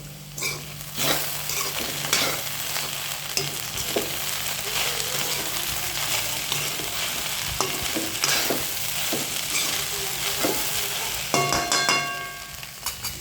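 Cooked okra sprinkled with salt being stirred in a hot pan: a constant broadband sizzle with repeated spatula scrapes and clinks, close up, without any talking.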